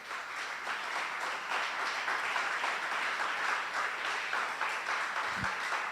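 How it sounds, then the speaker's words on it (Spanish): A church congregation bursts into a dense, steady wash of applause during a Spanish-language service, many hands clapping together at a fairly far distance, sustained throughout. "Dele un aplauso fuerte al Señor."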